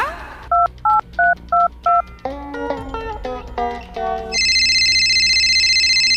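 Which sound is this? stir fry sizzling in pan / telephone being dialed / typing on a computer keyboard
telephone being dialed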